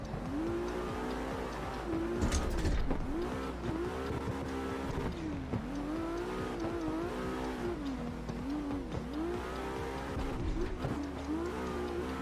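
A big, heavy car drifting in a racing video game played on a direct-drive wheel: a continuous revving engine rising and falling in waves, with tires squealing through slides and a brief louder burst near the start.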